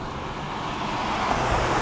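Steady roadway noise from cars and heavier vehicles on a busy street, a continuous near wash of passing traffic that swells slightly toward the end, with no voices.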